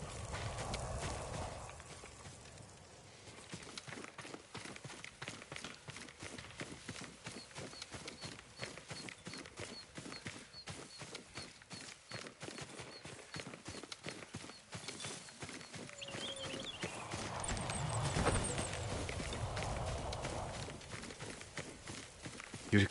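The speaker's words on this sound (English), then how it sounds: "Yuriko's horse." Horse hooves clip-clop steadily at a walking pace through the whole stretch in Ghost of Tsushima, a dense, even run of close hoofbeats with faint ambient swells, no voices.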